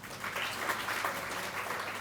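Audience at an International Girl Child Day function in a hall applauds steadily as a hospital nursing superintendent is called up, a dense, even wash of clapping at moderate level with no talk over it.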